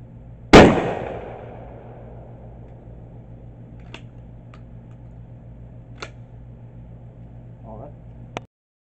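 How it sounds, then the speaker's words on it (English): One loud, sharp shotgun blast from a Dickinson 12 gauge fitted with a skeet choke, fired close by and followed by a fading echo, then faint scattered clicks. "we're going to go ahead and shoot it with the skeet choke"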